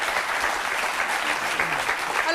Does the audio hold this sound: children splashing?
no